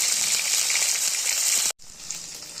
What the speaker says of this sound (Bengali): এইভাবে উল্টে পাল্টে একদম আরেকটু পাতাটা ভালো মতো ভেজে নেবো তাহলে ভেতরে খাবারটাও ভালো মতো ভাজা হয়ে যাবে